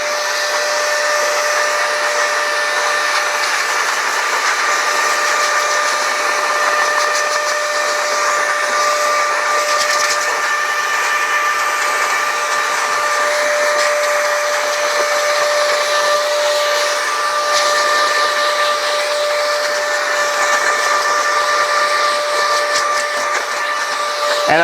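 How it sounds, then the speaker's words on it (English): A cordless air duster running with its blower attachment, a steady, loud, high-pitched whine with a constant airy rush, holding unbroken at the same strength from start to finish with no talking. "Pop on just the blower. I have the same power no matter what."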